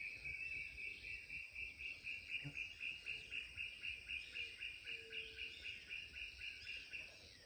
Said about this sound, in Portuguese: Esse é o Nambu, um pássaro lindo e raro